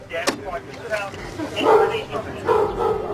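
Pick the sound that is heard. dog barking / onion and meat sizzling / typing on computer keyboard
dog barking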